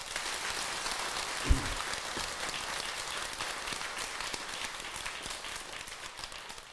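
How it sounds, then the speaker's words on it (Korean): A temple congregation at a Sunday Buddhist service gives the head monk a round of applause, a thick, sustained patter of many hands with one brief thump near the start. "주지 스님한테 박수 한번 보내주세요"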